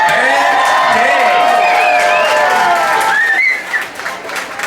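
A sold-out crowd at the Stone Pony cheers and applauds Band Day, a loud, dense wash of clapping, whoops and voices that thins out toward the end.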